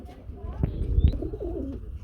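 A pair of helmet pigeons at a pigeon farm coo softly and close by, giving a brief rolling, throaty call over a faint background murmur.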